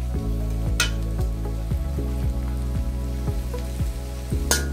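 Spices frying in a pan for a chicken roast, a continuous close sizzle with occasional sharp spatula clicks against the pan, over a steady low tonal hum and no speech.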